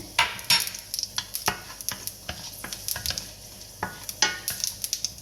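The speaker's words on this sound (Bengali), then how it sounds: "শুকনো মরিচ পাঁচটা, হালকা অল্প কয়েকটা আমি পাঁচফোড়ন দিয়ে দিতেছি এখানে" Five dried chillies and panch phoron five-spice sizzle in hot oil for a jujube (boroi) pickle, with close stirring scrapes and clinks of a spoon against the pan in an irregular rhythm.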